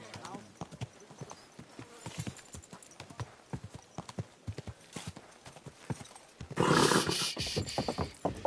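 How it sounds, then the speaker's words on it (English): Rhythmic clip-clop of horse hooves at a steady trot in the video game Kingdom Come: Deliverance 2, with a brief burst of louder rushing noise near the end. "Easy, good horse."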